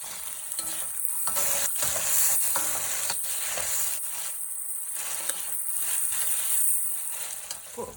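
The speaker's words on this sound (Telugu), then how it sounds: "ఇలా కొంచెం ఫ్రై అయిన తర్వాత కస్తూరి మేతి వేసుకొని ఒక 1 మినిట్ ఫ్రై చేసుకోవాలి." Paneer masala curry frying in a pan with kasuri methi, a steady close sizzle with scraping stir strokes against the pan running throughout, no voices.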